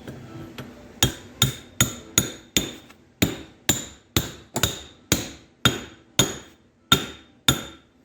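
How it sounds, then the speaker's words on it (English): A heated new bearing is driven onto the end of a Tremec TR3550 transmission cluster gear with a steady series of about fifteen sharp metallic hammer strikes, close and evenly spaced, with no talk. "All we have to do is press a new bearing onto the end"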